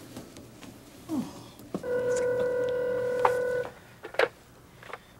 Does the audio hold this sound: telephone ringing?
yes